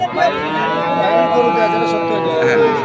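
A bull at a livestock market lets out a long, loud, drawn-out moo close by, with a steady low, harmonic tone held for nearly three seconds.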